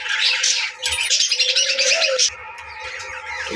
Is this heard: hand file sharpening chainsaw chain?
no